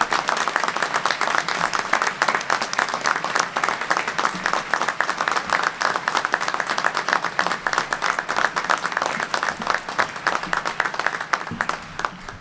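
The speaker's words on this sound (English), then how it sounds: "give this man a round of applause" Graduation ceremony audience applauding, dense sustained clapping from a large crowd that holds steady for the whole stretch and only thins slightly at the very end.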